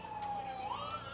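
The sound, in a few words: ambulance siren passing by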